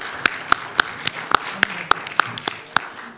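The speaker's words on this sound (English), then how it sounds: "giving the Federalist Society and those who have organized this whole convention a round of applause" Scattered handclaps from a small convention panel audience, about a dozen sharp, separate claps over a quiet room, never building into full applause.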